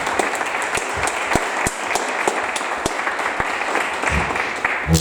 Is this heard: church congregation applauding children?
yes